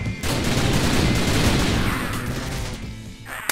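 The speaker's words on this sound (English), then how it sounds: "Quick, shoot him!" A continuous, loud volley of rapid gunshots from the game Typing of the Dead Overkill pounds for about three seconds before cutting off abruptly.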